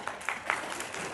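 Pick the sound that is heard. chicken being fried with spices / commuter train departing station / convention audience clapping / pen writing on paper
convention audience clapping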